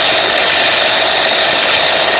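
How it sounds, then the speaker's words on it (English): Steady, loud car engine running in a vehicle fitted with a hydrogen generator, new coils, spark plugs and wires, a constant broadband hum with no change in rhythm throughout. "You see the engine is running."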